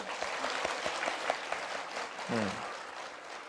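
Church congregation claps during a multigenerational worship service, a fairly faint, brief patter of applause from the room with a voice briefly heard partway through.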